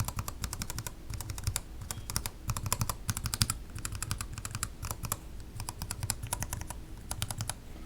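Gateron Yellow mechanical keyboard switches clatter under fast typing, close and crisp, in bursts of rapid keystrokes separated by short pauses.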